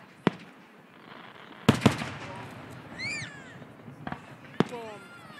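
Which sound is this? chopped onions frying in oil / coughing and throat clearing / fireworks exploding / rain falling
fireworks exploding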